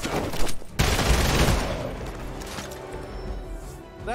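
Gunfire bursts in the Midnight Suns video game, a loud crashing volley near the start that decays into a rumbling tail, with faint game voices underneath.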